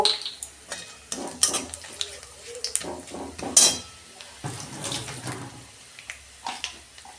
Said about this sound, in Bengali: ওই তেলে আমি কালো জিরে দিচ্ছি অল্প।